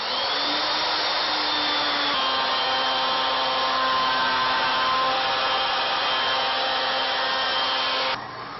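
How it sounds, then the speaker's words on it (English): A router cuts a wooden candlestick part with a steady, loud, high motor whine and a constant cutting hiss, with the pitch shifting slightly early on, until the sound drops abruptly near the end. "So I position the router at 2 1/4 inches,"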